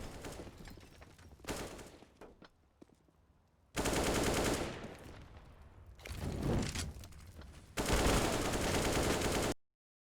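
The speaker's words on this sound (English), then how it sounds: "a player is shooting through the smoke" Automatic gunfire from CS:GO comes in several loud sustained bursts separated by short pauses, with dense rapid shots and softer echoing fire between the volleys.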